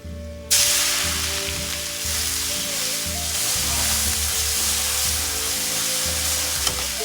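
Onion hits hot oil in a pan already holding mustard seeds and curry leaves, a sudden loud sizzle that settles into a steady close crackle with stirring, no talk.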